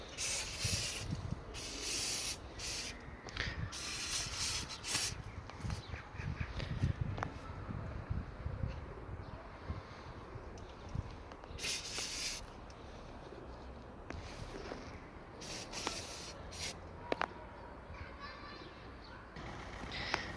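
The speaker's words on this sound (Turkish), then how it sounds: "Spreyimizi uyguladık." Cleaner is sprayed onto the engine bay of a Fiat Egea 1.4, giving bursts of close hissing spray in several separate blasts amid handling noise, with no talk over it.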